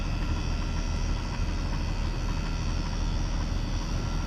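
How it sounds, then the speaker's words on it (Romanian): Air conditioner running with a steady, broadband hum and whir, loud and unchanging throughout, with no voices. "când o să vedeți sau când o să auziți că se schimbă zgomotul la aerul condiționat"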